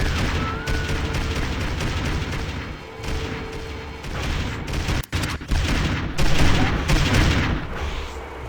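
Turret gunfire in Destroy All Humans! Path of the Furon, a sustained barrage of heavy booming shots with explosive bursts, steady and loud across the whole stretch amid game noise.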